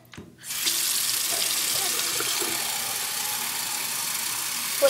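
Water gushes from a tap into a cup, starting abruptly after a brief moment and then running as a loud, steady hiss close by until the end.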